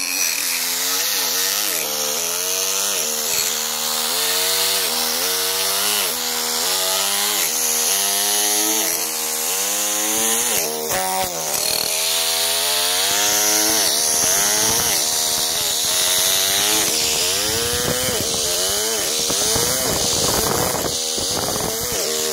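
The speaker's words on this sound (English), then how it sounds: "I'll fire up the chisel, it's a little loud, and I'll give you a little demo on how it's done" A power chisel carving a cavetto molding into a wooden fireplace leg gives a loud, continuous motorized whine that rises and falls in pitch as the blade bites, with rasping bursts of cutting through the wood and no voices.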